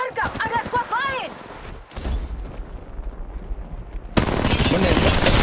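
In Apex Legends Mobile, a game character's voice line opens the moment, followed by rumbling shots and then a dense, loud barrage of sustained automatic gunfire.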